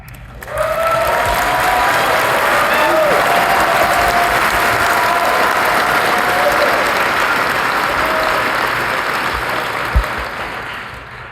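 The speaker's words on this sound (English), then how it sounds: "If y'all can wait till I finish the names before y'all clap, I'll be all day." A large Hall of Fame enshrinement audience breaks into sustained applause. It swells quickly and holds steady for about ten seconds before tapering slightly near the end.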